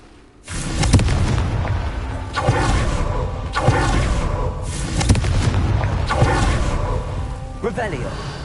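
Spell explosions from the video game Hogwarts Legacy boom out in a steady series of loud blasts, each followed by rumbling debris, while a voice shouts incantations over them.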